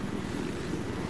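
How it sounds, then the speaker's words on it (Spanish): An enemy helicopter flies in Battlefield 4, heard as a steady, dense rotor and engine drone that stays at an even loudness with no voices over it. "Viene un helicóptero."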